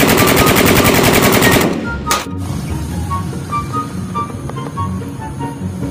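A rapid burst of AK47 automatic rifle fire rattles loudly for under two seconds, followed by a single sharp shot and quieter background noise.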